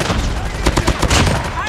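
Gunfire from a scientific gun in Call of Duty Mobile played on PC, a dense burst of loud, near shots with overlapping blasts over a noisy game mix, lasting under two seconds.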